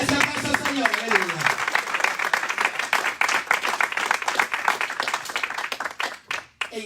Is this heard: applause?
yes